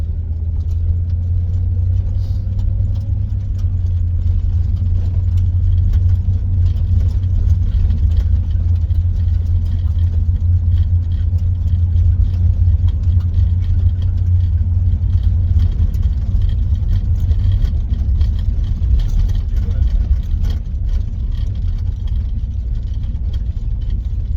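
A 1983 Chevy engine idles steadily while warming up, a deep, even rumble heard close and continuous with no talk.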